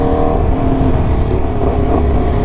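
A light Aprilia motorcycle's engine runs loud and close under throttle, with a steady, throaty drone.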